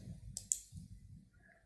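Two sharp, close computer mouse clicks in quick succession while confirming a settings dialog on a computer, followed by quiet low rumble.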